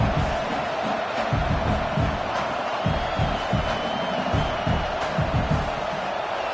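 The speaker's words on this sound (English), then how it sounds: "how nice is it to have the home crowd going absolutely bananas" A large home crowd roars at an American college football game against Oklahoma, a dense, sustained wall of cheering with bursts of shouting, loud and continuous throughout.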